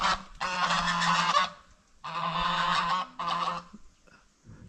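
Geese honk loudly and repeatedly outside a house, in three long bursts of raucous, overlapping calls separated by short pauses, close and dominant with no talk over them.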